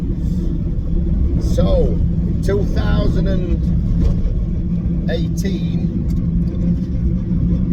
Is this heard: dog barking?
no